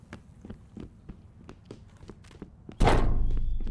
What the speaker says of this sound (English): As it's like banging on the fucking door